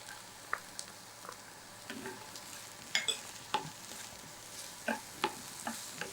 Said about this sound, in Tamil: இப்போ வெங்காயம் ஓரளவுக்கு வதங்கிய பிறகு நான் சேர்க்க போகிறது வந்து கேரட்டு.